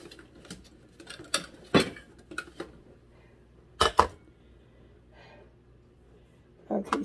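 A bowl is fetched and set down during a shed weigh-in. Scattered clinks and knocks land at close range, with two sharper thumps of something set down midway, and faint rustling between them.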